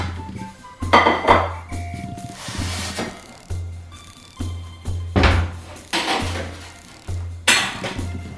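A freshly baked bacon and potato pizza from a Roccbox oven being set onto a plate, with a series of clattering dish and cutlery knocks, scrapes and thunks at a steady rhythm, close and fairly loud.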